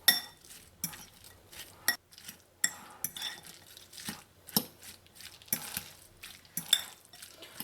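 Spoon scraping and clinking in a bowl as baigan choka, a mashed roasted eggplant dish, is mixed with raw onions; irregular close knocks and scrapes, fairly quiet, with no talking.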